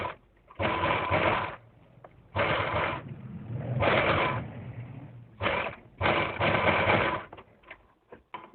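A sewing machine runs in separate bursts of about a second each, stitching a long, thick seam on a dress neckline, with short pauses between the runs and a few clicks at the end.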